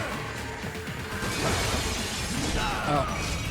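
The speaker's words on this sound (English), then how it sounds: "I heard a lot of glass breaking behind me" Glass shattering during play of the video game Metal Gear Rising, a sustained loud crashing and breaking burst running through the whole stretch with no break.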